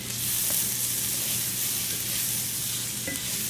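Onions sizzling in olive oil in a pan while being caramelized, a loud, steady, hissing crackle close up with faint occasional stirring, no voices.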